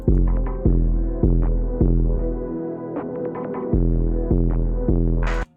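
A gritty, distorted beat with heavy thumping bass hits at a steady pulse and buzzing harmonic synth tones, loud and aggressive, no voices.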